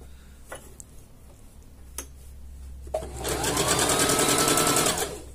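Sewing machine stitching fabric: after a few light clicks, the motor starts and runs in a steady, fast, close-up whirring chatter for about two seconds, then stops; no talking.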